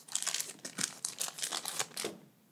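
A plastic bag from a Cobi brick building set is pulled and stretched up close, giving dense, irregular crinkling bursts with no voices.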